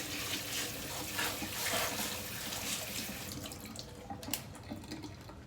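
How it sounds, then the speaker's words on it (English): Kitchen tap water runs steadily over bell peppers and pineapple being rinsed in a sink, a continuous close splashing stream that thins near the end. "I think I want to run a little bit of water on these just to get all that supermarket off of there."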